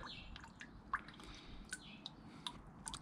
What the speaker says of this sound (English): So whilst the last few remaining drips and drabs are coming out of the bottom of the radiator